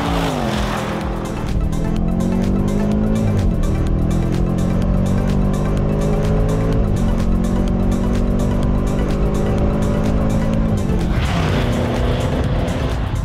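A Range Rover Sport SVR with a 575 hp supercharged V8 accelerates hard, its loud, close engine roar climbing through rising gear pulls with brief dips at the shifts.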